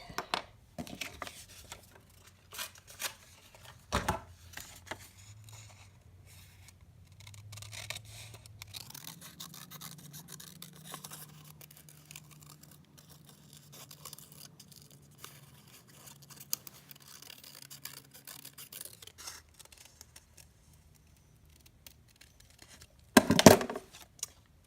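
Scissors snip through black construction paper for a kindergarten butterfly body, a run of soft, close crisp cuts with a low steady hum beneath, closing in a sharper burst of rustling at the end.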